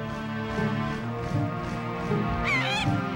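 Seagull calls from The Legend of Zelda: The Wind Waker ring out over bright, layered game music, with several honking squawks and a louder warbling cry near the end.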